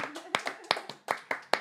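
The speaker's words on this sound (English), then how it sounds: "Can we just clap it up one time?" A small audience claps for someone during a lunch-table interview: about eight sharp, evenly spaced claps ring out close and clear, with a faint voice under the first beat.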